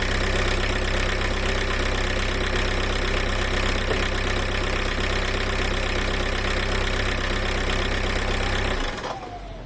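A car engine idles loudly and steadily up close after being started with a Lidl jump starter booster and no battery, then cuts off sharply near the end.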